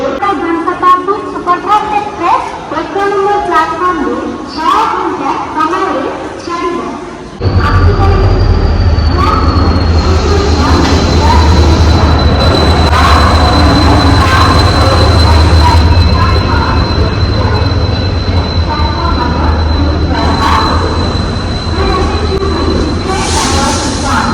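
The 12074 Jan Shatabdi Express rumbles into platform one close and loud with a drawn-out high squeal of wheels braking, after someone talking; the roar continues throughout.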